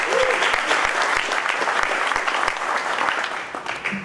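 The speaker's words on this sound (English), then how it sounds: "Let's give him a round of applause for being here." A meetup audience applauds a speaker being introduced for a data visualization talk, a dense, steady wash of many hands clapping at close range that carries on for about four seconds with a brief voice near the start.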